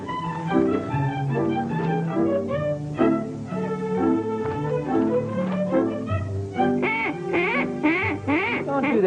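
A duck call blown repeatedly indoors, a busy run of loud nasal quacks in quick rhythmic bursts over layered background sound.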